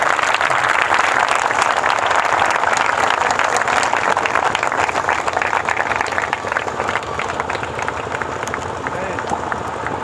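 A congregation at a church gathering claps for the Lord, sustained, loud, dense applause lasting about ten seconds with crowd babble mixed in and easing slightly toward the end.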